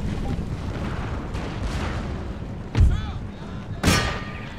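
Grenades exploding and throwing shrapnel during a siege of Venice in Empire Total War: two sharp booms about a second apart stand out over a steady battle rumble of distant gunfire.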